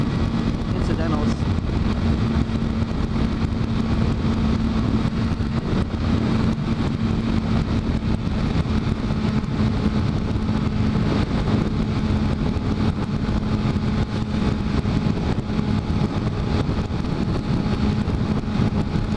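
Freeway traffic on the 14 heard while riding on a motorcycle, a constant loud roar of road and wind noise with engine drone under someone talking throughout.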